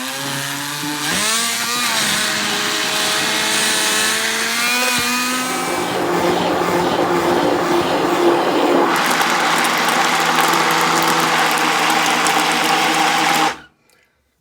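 An electric mixer whirs loudly through packet cake batter with eggs and water, motor pitch shifting as it works for several seconds before cutting off abruptly.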